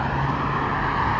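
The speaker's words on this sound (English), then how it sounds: "This car is pulling up right now at the manhole." A tan car's engine hums steadily nearby as it pulls up, a continuous broadband road rumble holding level throughout with no pause or voices.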